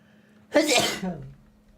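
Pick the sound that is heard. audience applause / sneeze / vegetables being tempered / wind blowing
sneeze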